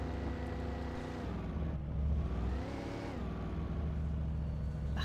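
Car engine in the Alan Wake video game, a steady droning hum with a slight surge in revs midway, continuous and moderately loud with no talk over it.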